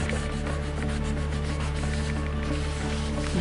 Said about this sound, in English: You have to rub quite hard to get a good effect.